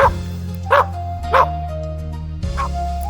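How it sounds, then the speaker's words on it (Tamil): A dog on a farm barks about four times in evenly spaced, short yips over a steady humming backdrop, fairly close and clear. "நம்மளோட பெஸ்ட் ஃப்ரெண்ட் நாய்களுக்கு ஹலோ சொல்லுங்க"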